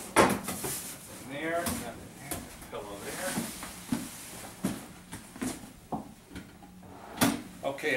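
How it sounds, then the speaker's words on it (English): Hotel room drawers slide open and shut with a series of sharp knocks and wooden scrapes while items are lifted out, spread irregularly under steady nearby talk. "I'm going to go ahead and check my drawers, and I'm going to be looking for items inside of them."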